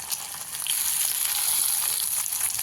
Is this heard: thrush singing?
no